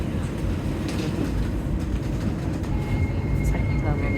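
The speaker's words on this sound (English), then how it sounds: "Second time on the Birmingham tram." Riding a Birmingham tram: a steady low rumble of the moving car with faint clicks and a thin high whine, heard from inside, with people talking over it.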